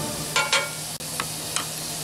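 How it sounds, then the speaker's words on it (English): Food fries in a pan for off-grid spaghetti and beans, giving a steady close sizzle broken by a few brief scraping stirs and one sharp click. "Let these guys fry up a little bit."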